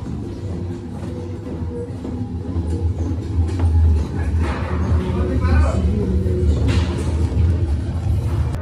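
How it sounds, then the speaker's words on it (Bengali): A train at a children's museum in Indianapolis rumbles past with a low continuous roll and rattle of cars, fairly loud and close, while people talk over it. "ট্রেন এরকম হয়।"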